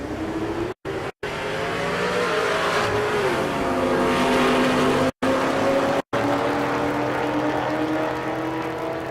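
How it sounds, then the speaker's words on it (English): Chevrolet Silverado and Corvette drag racing at a strip in Ennis, Texas: loud sustained engine roar with rising revs across the run, near and continuous, no talking. "Josh Ram in the left lane. The Corvette"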